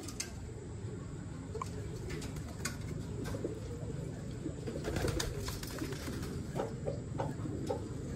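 Pigeons at a pigeon club loft coo repeatedly at close range, soft low calls layered over faint rustling and background noise, with no talking.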